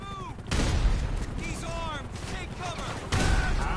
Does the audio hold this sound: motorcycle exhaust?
no